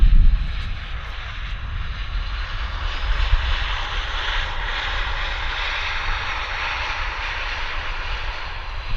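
Airliner landing at Vancouver Airport, a steady loud jet engine roar with broad rushing noise throughout, holding fairly constant with a slight swell midway and no speech over it.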